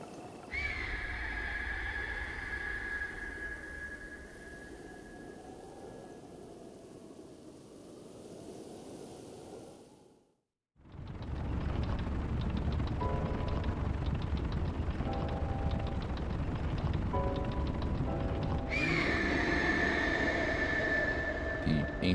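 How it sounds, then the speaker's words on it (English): An ancient technology device in Breath of the Wild whirs with a steady, prop-plane-like drone. The drone cuts out briefly, then returns amid a denser, rougher wash of game sound with short tonal blips. "The ancient and amazing piece of technology still sounds like a prop plane"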